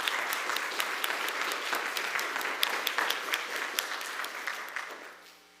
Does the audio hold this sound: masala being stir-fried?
no